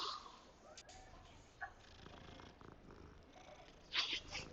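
A cat purrs softly in a video game, a faint low rumble that rises and falls, broken by a brief mew near the end.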